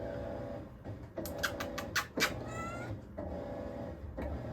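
A house cat cries out in a few short, strained meows, close and fairly loud, with some rustling and scraping around it.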